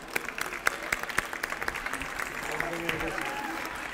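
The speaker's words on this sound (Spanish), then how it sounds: "Bien, ahí un aplauso." Applause from attendees at a 25-year graduation celebration for architecture graduates, a dense patter of many hands clapping steadily throughout with a few sharper claps standing out.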